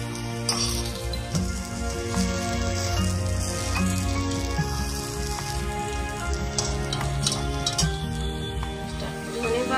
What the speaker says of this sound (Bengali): এতে খুব কম তেল লাগে এবং অল্প তেল দিয়ে এটাকে ভাজা যায়